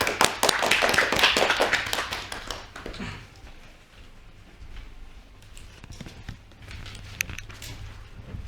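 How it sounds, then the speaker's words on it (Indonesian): Classroom applause for a student group in a mathematics microteaching session: a burst of dense clapping from several people for about three seconds, then fading to scattered taps and faint room noise. "kita beri aplaus untuk kelompok 3"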